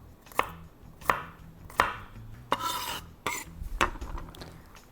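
A knife slicing garlic into thin slices on a cutting board, several crisp, evenly spaced chops close up, followed by some scraping and clatter, with no voices.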